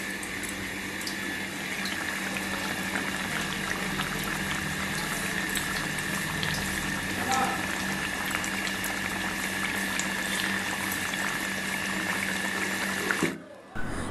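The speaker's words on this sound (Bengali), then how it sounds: "তো মাছের ঝোল হয়ে গেছে এখন এই ভাজা মশলাটা দিয়ে দেবো ওর মধ্যে" Fish curry simmering in a pot with fried spice mix, a steady bubbling boil that runs close and even throughout before a short clatter near the end.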